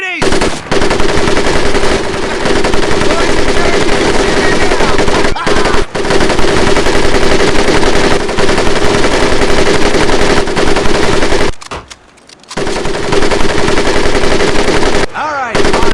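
A machine gun firing nonstop in the Medal of Honor Pacific Assault video game, loud sustained bursts close by, with two brief pauses and one longer gap near the end.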